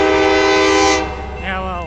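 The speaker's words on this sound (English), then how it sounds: "So Union Pacific train going south on track 2," A southbound Union Pacific freight train on BNSF's Seattle subdivision main track 2 sounds a loud, sustained horn chord that cuts off after about a second, then a softer, wavering horn blast follows as the train passes.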